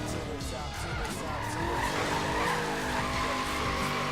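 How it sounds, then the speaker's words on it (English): A car drifting in the racing game Forza Horizon 3, tires squealing in a long sustained skid over a revving engine, loud and continuous, with a voice talking underneath. "I like the drifting as well,"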